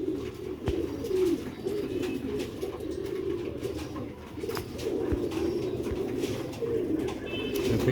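Pigeons coo in a loft, their soft, low, repeated calls rolling on steadily and fairly close, with faint background noise and occasional sharp clicks.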